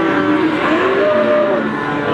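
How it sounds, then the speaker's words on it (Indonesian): Limousin cattle lowing at a busy livestock market in Pati, with a drawn-out moo rising out of a loud, dense wash of crowd and market noise. "Sapi limusin."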